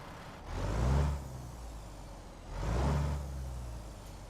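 A truck engine in American Truck Simulator, fitted with a stock engine running an aftermarket engine sound mod, rumbles deep and low in two swelling surges that die back to a steady idle drone.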